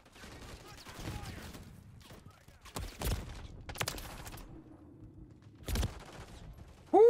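Dual-wielded Renetti burst pistols firing in Call of Duty MWIII: a few sharp, clustered bursts of shots spaced apart, loud and close, with quieter game noise between.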